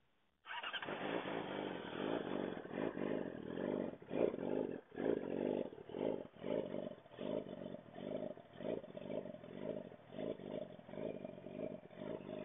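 A 2008 Yamaha R6 sportbike engine idles steadily after starting, its revs bouncing and surging unevenly; close and continuous with no talking.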